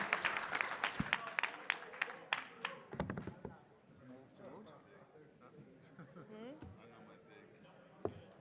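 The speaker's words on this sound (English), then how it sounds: "Again, round of applause for our judges, for our NFLPA ambassadors." Applause for the judges and ambassadors breaks out at the finals of a hackathon during a 2022 Genesis Week event, with sharp claps in the first seconds. It fades as people begin talking.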